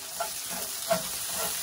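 Chopped garlic sizzles in hot olive oil in a pan, a steady close frying hiss with a few faint stirring touches and no talk.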